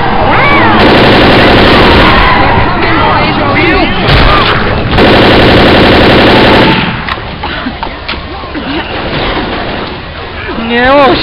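Assault rifle fire in the zombie game Left 4 Dead rattles in long loud sustained bursts with a brief pause, then trails off into scattered shots and game noise while players talk.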